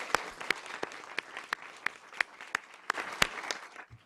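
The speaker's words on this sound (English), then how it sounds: "Perhaps we can give them a round of applause." A small audience applauds steadily, scattered individual claps standing out sharply from the crowd's clapping.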